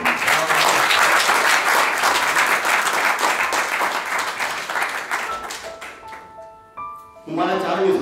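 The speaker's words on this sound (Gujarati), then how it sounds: "એક વાર જોરદાર તાળી વગાડો" An audience at a poetry show claps loudly and steadily for several seconds. The applause thins and fades, then a voice briefly comes in near the end.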